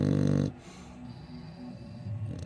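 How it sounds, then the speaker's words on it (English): A dog snores while sleeping, a loud low burst at the start followed by softer, rough breathing rumbles, heard close by with no talking. "Now your sister's snoring."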